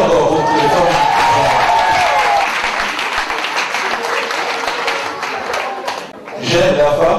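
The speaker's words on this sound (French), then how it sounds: "On applaudit encore pour les femmes." A large hall audience, mostly women, breaks into sustained loud applause mixed with cheering, dipping briefly near the end before swelling again.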